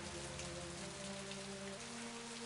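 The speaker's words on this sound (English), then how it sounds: "No, just a drizzle." Steady drizzle of rain in an Agatha Christie mystery game set on a shipwreck island, a continuous soft patter on surfaces with low tonal music droning beneath.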